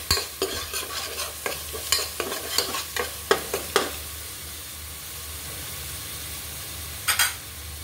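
Vegetables and prawns fry in a pan beneath a steady sizzle, with a quick run of rhythmic spatula scrapes and clacks, a pause of plain frying, then a final pair of stirring strokes.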